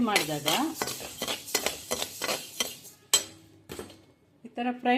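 A small quantity of rice, about one measure, dry-roasted in a pan on the stove, with repeated metallic scraping and rattling strokes of stirring against the pan, close and fairly loud, some strokes ringing, with brief pauses between bursts.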